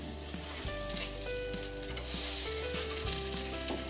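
Gözleme, Turkish stuffed flatbreads, fry in a hot pan over medium-high heat, giving a steady loud sizzle with occasional soft knocks and shifts of the pan throughout.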